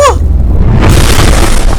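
A loud explosion in the co-op game Fog of Life 2 opens with a sharp hit, then swells into a heavy rumbling boom that fills the rest of the moment.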